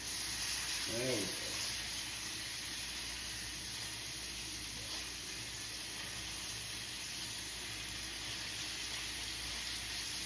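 Sausages fry and brown in a pan with a steady, fairly quiet sizzle that continues throughout, with a brief clatter near the start.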